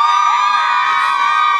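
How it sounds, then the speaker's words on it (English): A stadium crowd screaming and cheering for its teams at a match between Gauteng Gijimaz and Cape Stingers, a loud sustained roar of many voices with shrill whistles and whoops, unbroken throughout. "The crowd is electric. Everyone is screaming for their favorite team."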